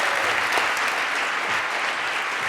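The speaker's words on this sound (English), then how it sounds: "Please give a round of applause to Steve" Steady, full applause from a tech conference audience in Oslo after a talk, an even wash of clapping that holds for the whole stretch with no voices on top.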